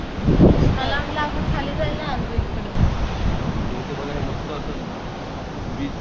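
Wind rushes over the microphone at a beach with the wash of sea waves, while voices talk faintly in the background.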